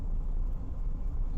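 A car passes on the road, a low broad rumble of tires and engine heard from inside a 1977 Corvette on a test drive, brief and steady without talk.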